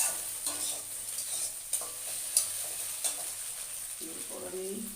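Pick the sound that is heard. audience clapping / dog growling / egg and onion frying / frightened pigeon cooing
egg and onion frying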